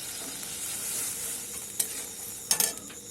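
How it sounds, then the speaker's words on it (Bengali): Ridge gourd sautéing with spices in a pan, a steady hissing sizzle with a few sharp scrapes and taps of a stirring spoon toward the end. "ঝিঙেগুলোকে ভালোভাবে কষিয়ে নিয়ে তার মধ্যে আলুগুলো দিয়ে দেব"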